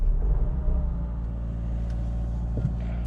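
A 2017 Mazda 3 with a 2.2-litre SkyActiv diesel engine idles with a steady low rumble just after starting, a close, even drone with faint mechanical ticking and no talk.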